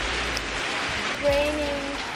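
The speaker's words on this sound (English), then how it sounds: "Literally raining so much." Heavy rain gives a steady broadband hiss for the whole two seconds. A brief tonal whine and a low thud are heard partway through.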